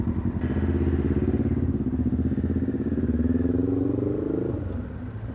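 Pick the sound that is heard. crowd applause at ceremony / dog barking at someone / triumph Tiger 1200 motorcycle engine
triumph Tiger 1200 motorcycle engine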